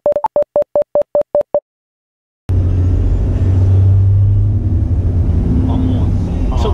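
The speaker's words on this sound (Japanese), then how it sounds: "吸ってる音しするね。 エアクリの音しますね。" Land Cruiser 80 diesel with turbo boost-up driving, a series of short electronic beeps giving way after a pause to a loud, continuous engine rumble and air-intake rush from inside the cabin.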